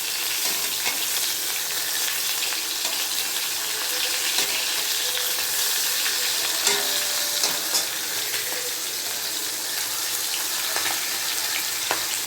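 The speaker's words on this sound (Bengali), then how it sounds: "বন্ধুরা, মাছের মাথাটা ভাজা হয়ে গিয়েছে।" A hilsa fish head fries in a pan for a mustard hilsa dish, giving a loud, dense, continuous sizzle with scattered pops and occasional scraping stirs close by.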